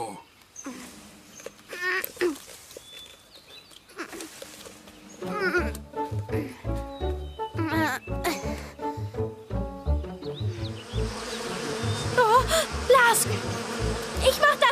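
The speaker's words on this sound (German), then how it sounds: "Lea, die Bienen, mach schnell!" Bees buzz through a German children's cartoon about a little polar bear and a honeycomb, their drone mixed with music and effects while cartoon characters talk.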